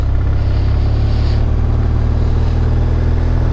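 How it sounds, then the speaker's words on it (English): Exotic sports car driving past on a wet, drizzly road, a loud sustained engine roar that stays close and heavy with no talking. "Sound like a Formula One car."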